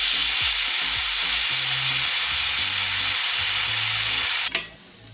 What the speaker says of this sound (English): now we can also directly fry the tofu